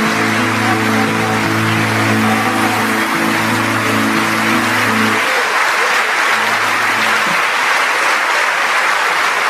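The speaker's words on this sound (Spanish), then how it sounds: "Denle un aplauso al Señor Jesucristo." A church congregation applauds steadily and loudly through the whole stretch, a dense wash of clapping, while sustained organ or keyboard chords ring underneath for the first half and then briefly return.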